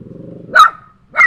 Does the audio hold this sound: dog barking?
yes